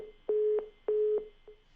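Phone line disconnect tone: repeated short beeps in a steady pattern, each a clean electronic pulse, fairly loud and alone with no voices.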